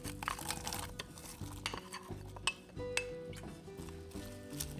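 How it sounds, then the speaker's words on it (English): Onions going into melted butter in a Dutch oven over medium heat, with faint sizzling beneath clinks and scrapes of a utensil against the metal pot, fairly quiet and close. "Then we add the onions."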